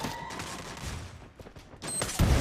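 Rapid bursts of gunfire from the battle royale game Free Fire crackle in quick succession, with a louder thump near the end.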